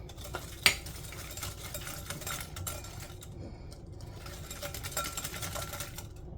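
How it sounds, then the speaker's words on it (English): Egg and sugar whisked in a bowl, a quiet, close rapid scraping and clicking of the whisk with one sharper tap early on. "Let's get a good whisk on it."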